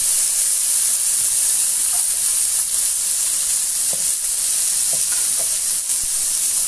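Bacon sizzling without oil in a hot Philco Redstone PPE04FS electric pan, a steady loud hiss and crackle with occasional pops throughout, no voices.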